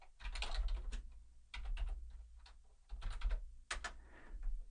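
Fingers type a pip install command on a computer keyboard in quiet, quick bursts of key clicks separated by short pauses.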